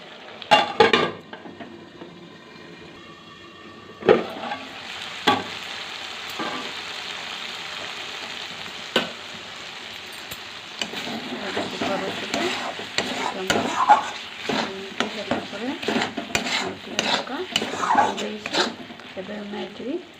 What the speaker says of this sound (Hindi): फ्राए करी रखिथिबा आलू एवं फूलकोबी को पकेइबा